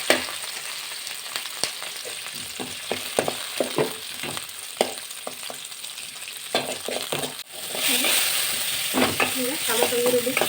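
Garlic and curry leaves frying in oil for horse gram sambar, with a steady sizzle and intermittent scraping and clicking from a spoon stirring the pan, and the sizzle swelling louder toward the end.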